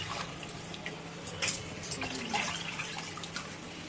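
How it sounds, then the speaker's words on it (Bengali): Water is poured into a pan of cauliflower and egg curry cooking on the stove, a soft steady splashing and gurgling stream heard close but fairly quiet, with a faint background hum. "এখানে আমরা দিয়ে দিচ্ছি আরও পরিমাণ জল"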